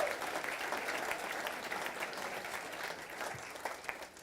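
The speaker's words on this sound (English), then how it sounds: "A big round of applause." An audience at a charity auction claps in a sustained, moderately distant burst that stays steady for several seconds.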